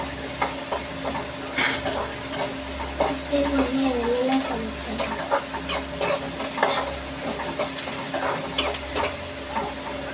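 Onions sautéing in a pan for a conch curry, a steady close sizzle with repeated scraping stirs of a spoon, no talk heard.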